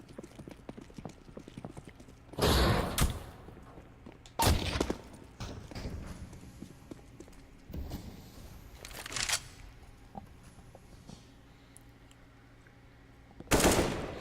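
Counter-Strike: Global Offensive gunfire from an AK rifle and a CZ pistol in a competitive match: several loud, short bursts of shots separated by quieter stretches of background game noise.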